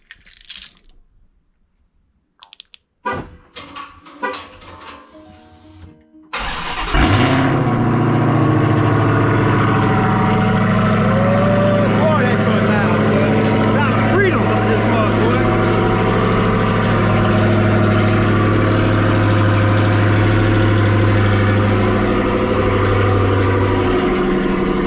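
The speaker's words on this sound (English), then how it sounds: "I'm gonna go ahead and give you that cold start real quick" A Dodge Charger Hellcat V8 cold-starts after a few seconds of faint clicks and handling noise, bursting into a loud, steady, deep rumbling idle that holds up close without a break.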